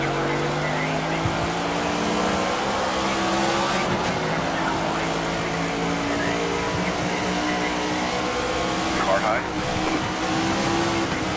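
Engine noise from the Alloy number 61 car in NASCAR 25 during a practice session: a sustained, loud race engine drone with shifting pitch, a whine rising and falling through gears, and occasional tire squeal, while a voice talks over it.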